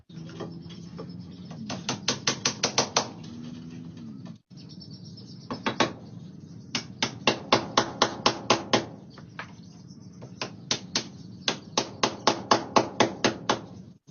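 Nails driven into a 2x2 wood piece for a PVC door jamb, sharp hammer strikes in rapid bursts of four to eight blows with short pauses, close and loud, no talking.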